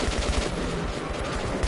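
Rapid automatic AK-47 fire in the survival shooter Metro 2033, a dense burst of shots rattling continuously for under two seconds, loud and close with no voices.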